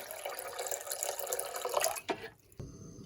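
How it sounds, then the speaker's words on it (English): Water runs steadily from a tap into a pot for boiling boba, splashing and filling, then cuts off abruptly with a brief clatter and a quieter tail. "So I'm putting a lot of water."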